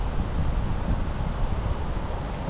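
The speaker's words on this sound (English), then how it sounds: "A little bit windy." Steady wind buffeting a camera's built-in microphone outdoors on a street, giving a constant low rumble and broadband roar with no pauses and no talking.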